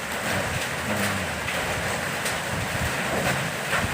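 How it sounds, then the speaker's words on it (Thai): Steady broadband hiss of rain falling amid strong wind, a constant wash of noise with no pauses, fairly close and moderately loud, no voices. "ฝนมาแล้ว"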